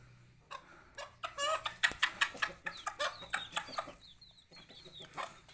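Bangkok chickens in a small home flock kept in netting, clucking and squawking in a rapid series of short calls, fairly close, with higher chirps and a steady low hum underneath.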